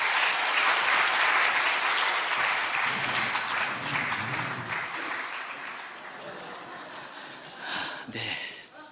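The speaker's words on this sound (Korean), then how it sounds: "우리 나오실 때 큰 박수로 우리 환영해 주시기 바라겠습니다" Loud audience applause fills a Korean church worship service as performers come forward, a dense sustained clatter of many hands that gradually thins and fades, with a brief swell near the end.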